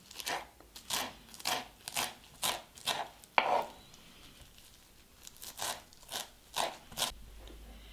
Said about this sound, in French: je vais ajouter de la menthe et du persil, que je vais couper très fin.